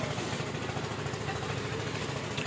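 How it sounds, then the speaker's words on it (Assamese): A generator runs at the Digboi oil refinery museum grounds, a steady mid-pitched engine drone with a vibrating rumble, continuous and fairly faint, with no talk over it. "গোটেই জেনেৰেটৰ মাত আহি আছে"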